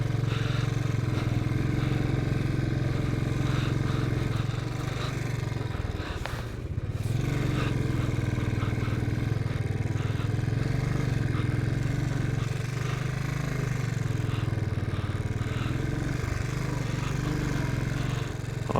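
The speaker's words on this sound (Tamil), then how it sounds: "மணல் வண்டி போக மாட்டேங்குது, அப்படியே ஆட்டி ஆட்டி போகணும்" Beside Pangong Lake in Ladakh, a vehicle labours through sand with one tyre spinning. A loud, continuous engine drone and scraping roar rise and fall, with a brief dip partway through.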